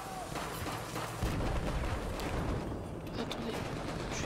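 Dense Battlefield 4 gunfire aimed at the player during a Conquest match on Siege of Shanghai, a loud continuous barrage of rattling shots and blasts filling the whole stretch.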